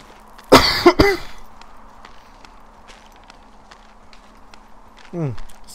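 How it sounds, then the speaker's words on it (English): A person gives one loud, close cough with a sharp second burst right after it. Quiet footstep-like taps follow, then a short voiced sound at the end. "I had to cough."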